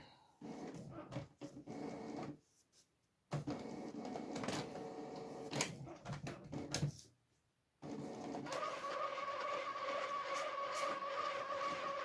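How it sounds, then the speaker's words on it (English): A printer whirs and clunks mechanically in bursts with brief pauses, then settles into a steady, humming run with a faint tonal whine. "That's my printer making noise."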